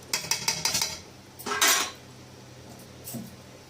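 A metal spoon stirs khichdi of rice, lentils, potato and cauliflower in a cooking pot, giving a quick run of rhythmic scraping clinks, a longer louder scrape, then one faint tap after a pause.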